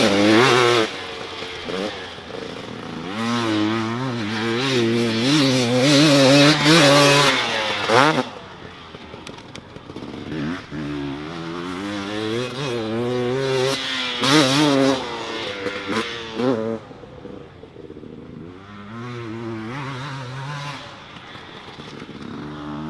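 A dirt bike races through sandy bowl corners, its engine revving hard and rising and falling in pitch through each turn, close and loud, easing off near the end before building again.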